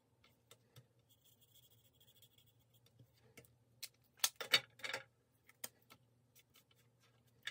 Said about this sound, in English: I'm using some light basic black just to color in the butterfly a little bit.